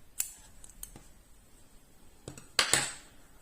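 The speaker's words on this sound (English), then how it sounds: "and cut your yarn" Scissors snip through crochet yarn at the end of a granny square round, a couple of faint clicks followed by a sharper, brief cutting sound near the close, otherwise quiet.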